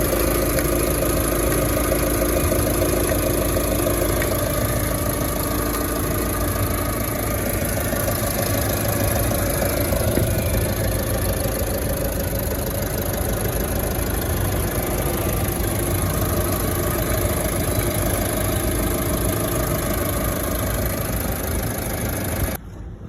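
A 2014 Skoda Rapid diesel engine idles steadily and close by, a continuous low rumble with a faint knocking texture that holds evenly for about twenty-three seconds with no talk.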